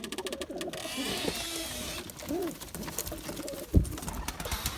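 Pigeons in a loft coo softly near the microphone amid wing flutters and rustling, with one sharp knock partway through.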